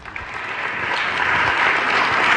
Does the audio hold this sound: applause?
yes